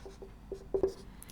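Chalk or marker taps and scratches briefly on a board during a circuits lecture, a few soft, close strokes in an otherwise quiet room.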